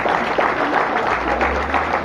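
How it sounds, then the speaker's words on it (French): Crowd applause at a town associations' parade in Le Carbet as firefighters march past, a steady dense wash of clapping with a low rumble underneath. "Mesdames et messieurs, les pompiers, s'il vous plaît. Nous applaudissons fort."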